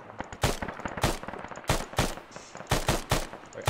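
Rapid trigger-spam gunfire during a helmet-cam combat sequence: about a dozen sharp, loud reports come in quick irregular bursts, with short gaps between clusters.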